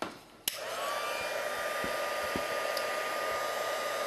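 Heat embossing gun blowing hot air for a faux tile craft, switching on with a click after a brief quiet moment and then roaring steadily up close with a high whine, a few small taps underneath.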